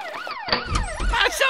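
A police car siren wails in rising and falling sweeps, close and fairly loud, with no talk over it.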